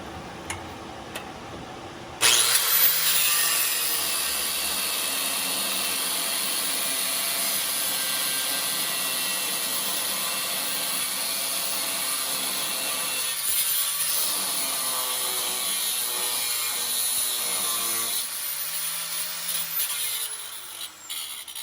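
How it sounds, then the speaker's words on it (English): An angle grinder's cutoff wheel slices through a badly galled nut on top of a shock absorber on a 1955 Chevy Bel Air, a harsh, steady high-pitched grinding roar that starts abruptly after two seconds and holds loud and close to the end. "So I'm gonna attempt to use the cutoff wheel on it."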